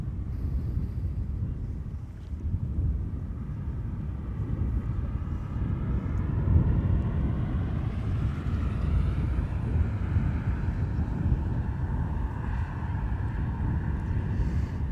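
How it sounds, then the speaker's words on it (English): A Finnair Airbus A350 airliner flying at Amsterdam Schiphol Airport, a loud, continuous jet roar that swells with wind buffeting the microphone over fifteen seconds, no talking. "Finnair flight 1302, A350, the bloody Helsinki in Finland, that's coming this way as well"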